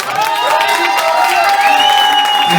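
Audience applause and cheering for a performer at a live cover-song show, loud and sustained throughout, with a singer's sustained vocal tones carrying over the crowd noise.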